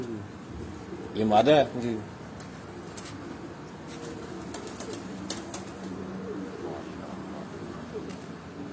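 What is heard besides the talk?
pigeon cooing on a rooftop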